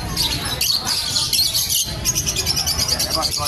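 Small caged birds at a pet market, including red-headed finches, chirping and twittering continuously in a busy, close chorus, with a little background chatter.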